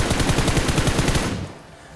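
Rapid automatic gunfire in a battle royale video game, a fast dense burst of close, loud shots in steady rhythm lasting over a second before stopping and trailing off into faint noise.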